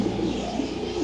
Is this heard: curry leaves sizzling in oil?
no